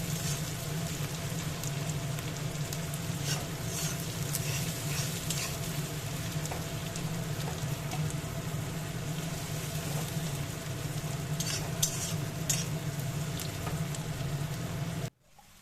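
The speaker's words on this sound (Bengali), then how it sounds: "পেঁয়াজটা একটু হালকা বাদামি করা অবধি ভেজে নেব।" Three large chopped onions sizzle steadily in a pan as they fry toward light brown, with occasional scraping and stirring, a continuous close hiss throughout.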